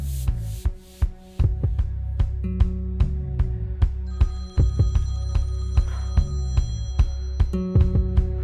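A telephone rings in a Hindi-dubbed South Indian action film scene, its ring tone sounding in repeated bursts over sharp percussive hits and a droning music background; no one speaks.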